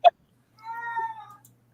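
A cat lets out one long, wavering meow, close and loud, after a brief sharp knock at the start, with quiet surroundings before and after.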